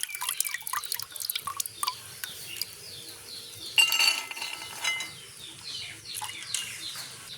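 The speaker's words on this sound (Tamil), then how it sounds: "இப்போ பருப்பு நல்லா ஊறிட்டு இனி தண்ணியை வடிச்செடுப்போம்" Water trickles and drips steadily from soaked lentils, with light splashes and faint clinks, as liquid drains away; no voices.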